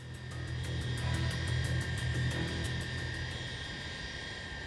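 Airliner jet engines drone steadily as the aircraft climbs to 33,000 feet toward cruising altitude, a constant broad roar heard from inside the cabin with no talking.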